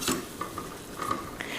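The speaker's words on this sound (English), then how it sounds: "Quick little scrape to the bottom of the pan here." A spoon or spatula scrapes and clinks across the bottom of a pan after sherry is added to chicken and mushrooms, several quick metallic scrapes and taps over a faint sizzle, close and alone.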